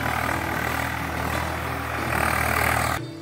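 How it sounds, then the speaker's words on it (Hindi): A red tractor's diesel engine runs steadily in a farm field being tilled, a close, loud, even rumble that swells slightly before cutting off abruptly near the end. "ये देखिए, ये लाल रंग का ट्रैक्टर है, वो नीले रंग का था।"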